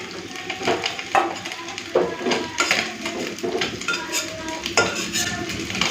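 Fish frying in a pan on a hot midday stove; a steady sizzle sits under repeated metal spatula clinks and scrapes against the pan, close and fairly loud.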